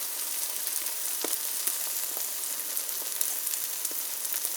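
Rye bread with an egg fries in a pan with a steady, even sizzle and scattered small crackles, close and continuous, with no talk.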